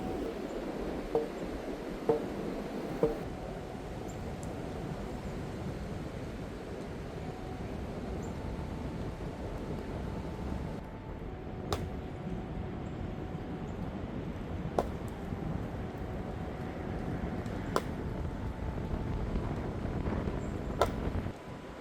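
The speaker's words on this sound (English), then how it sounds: "It's much too cold and windy." Gusty, cold wind buffets the microphone outdoors during a workout with a continuous low roar, broken by a few sharp knocks and taps.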